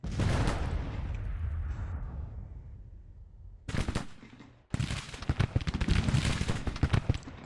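Musket volleys from Civil War infantry in the strategy game Grand Tactician: The Civil War crackle in a loud burst, fade into a lull, then return as a dense rattle of rapid, overlapping shots.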